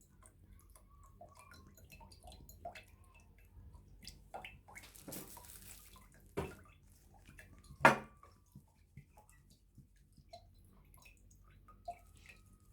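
Water drains from a cracked-open coconut, soft trickling and dripping at close range, with a few louder splashes and knocks scattered over a quiet background.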